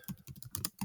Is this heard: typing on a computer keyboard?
yes